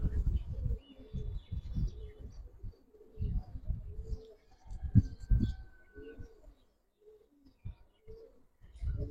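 Giribaz pigeons cooing close by in repeated low throaty phrases, with faint chirps and people talking intermittently alongside.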